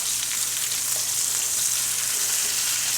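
Seasoned pork chops sizzle and fry loudly and steadily in a hot pan as they are flipped, a dense close crackle with no voices over it.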